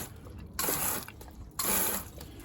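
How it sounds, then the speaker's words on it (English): Water sprayed into an air filter comes in two loud bursts of hissing spray, each about a second long, separated by a quieter pause. "There's a fair bit of water getting thrown in there"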